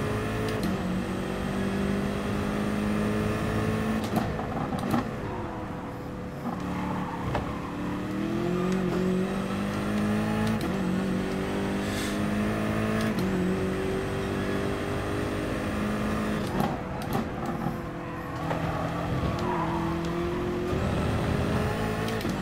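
A race car on a qualifying lap in GT Sport screams through the gears, rising and dropping in pitch with upshifts and braking downshifts, loud and continuous without speech.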